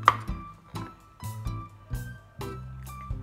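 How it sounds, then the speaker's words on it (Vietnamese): A block of sugar being broken up for cooking jam: a series of sharp, loud knocks and cracks, about seven blows at an irregular rhythm, each ringing briefly before the next. "chúng ta cũng phải đập cái bánh đường này ra cho mau tan nhé"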